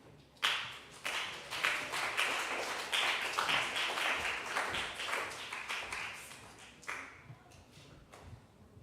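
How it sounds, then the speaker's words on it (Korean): A church hall audience gives sustained applause to welcome new members, with many quick overlapping claps that start sharply, hold steady for several seconds and then thin out into scattered claps. "새가족 주교님 나오실 때 큰 박수로 맞아주세요"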